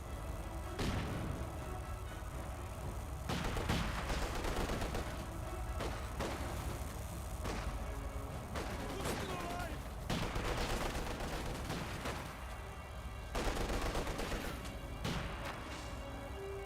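Battle sounds from Company of Heroes 2: dense gunfire bursts, sharp cracks and heavier explosive thuds from grenades, continuous and layered, with a commentator talking over the action.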